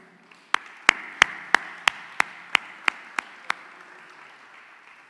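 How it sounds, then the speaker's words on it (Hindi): About ten sharp, evenly spaced claps ring out one after another at a church prayer meeting, crisp and fairly close, then stop, with a faint room murmur underneath. "ज़ोरदार तालियों में वेलकम करें जी"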